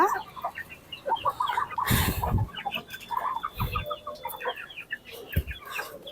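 Hens and chicks clucking and peeping nearby on a home poultry setup, a busy overlapping chorus of short calls with a few louder bursts and some rustling.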